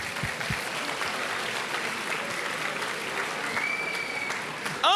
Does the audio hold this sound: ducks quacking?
no